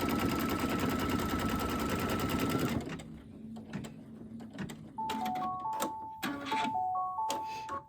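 A sewing machine runs steadily for about three seconds, stitching a straight stitch across fabric for a wildflower cushion quilt block, then stops; faint clicks and handling noises follow, with a few brief tonal beeps near the end.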